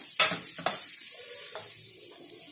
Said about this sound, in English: We give all of this a good mix so that everything gets coated with this bagar.